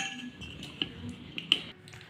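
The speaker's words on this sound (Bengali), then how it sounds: "এবার এটা ভালো করে মিশিয়ে নেব।" Chicken marinade of soy sauce and vinegar being mixed in a bowl for Indo-Chinese dragon chicken, with soft scraping and a few sharp clinks of a spoon against the dish, close and quiet.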